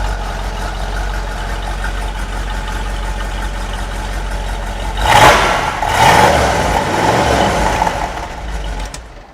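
Classic Mopar muscle car, a Plum Crazy example, with a low rumbling engine idling steadily before a loud rev-up around the middle, then a second burst before settling back toward idle.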